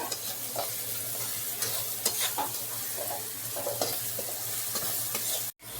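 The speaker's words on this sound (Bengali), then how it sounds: "এবার কাঁচা লঙ্কা কুচিগুলো দিয়ে দিচ্ছি।" Chopped green chillies sizzle in hot oil in a pan for Bengali masoor lentil dal, stirred with steady scraping strokes, close and continuous with a brief clatter near the end.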